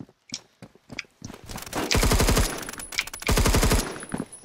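Rapid automatic gunfire in the Roblox game Phantom Forces, two loud sustained bursts of shots separated by a short pause, preceded by a few sparse single shots and clicks.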